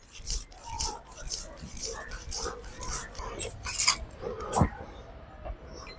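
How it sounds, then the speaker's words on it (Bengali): Poppy seeds being ground on a flat stone grinding slab (shil) in a Bengali kitchen, a repeated scraping and rubbing rasp with occasional knocks, close and moderately loud, with faint voices now and then. "আমি শিলের মধ্যে প্রথমে পোস্তটাকে বেটে নিচ্ছি"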